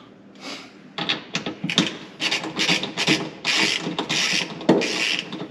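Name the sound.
tightening bolts on a UTV seat base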